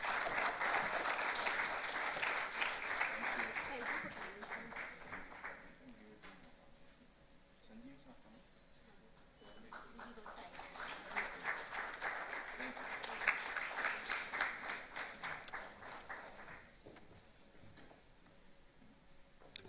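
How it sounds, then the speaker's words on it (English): Audience at an innovation summit applauding a guest on stage: two sustained rounds of steady clapping from a crowd in a hall, with a brief lull between them and quiet speech in the pauses. "Another round of applause for Velarusu sir."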